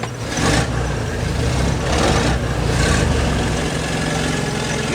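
Loud, steady roar of a Rolls-Royce armoured car engine running with its exhaust switched to bypass the silencer, a harsh continuous drone with slight surges in intensity throughout, heard close and alone.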